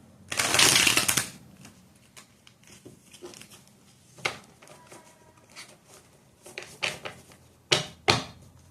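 Tarot cards shuffled close by, a loud riffling burst at first, then scattered softer taps and slides of cards handled and shuffled again.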